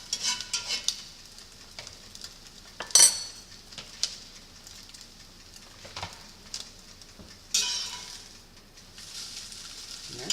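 Scrambled eggs are stirred in a pan for breakfast, with repeated utensil scrapes and taps against the pan over a faint sizzle, close and fairly loud; no voices.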